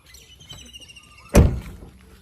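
A door swings shut with a single loud, close thunk, preceded by quiet room noise and a faint voice in the background.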